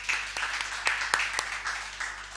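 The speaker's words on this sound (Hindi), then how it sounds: "इसके लिए तालियां हो जाएं।" Audience at a Hindi poetry open mic in Lucknow applauding, a moderately loud burst of scattered claps with distinct sharp hand strikes standing out from the steady clapping, no talk.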